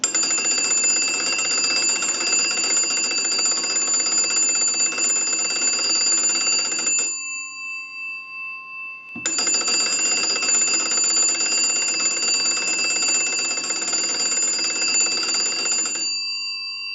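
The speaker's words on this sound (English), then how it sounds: "So we want to go ahead and use our crank and go ahead and ring the bells." An old wooden wall crank telephone rings its original large bells in two long bursts of rapid metallic clanging, loud and close, with a short pause between them and no talking.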